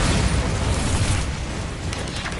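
A Bombarda blasting spell from a Harry Potter-style video game, heard as a dense, sustained rumbling explosion with heavy low-end roar that holds steady and slowly fades over about two seconds.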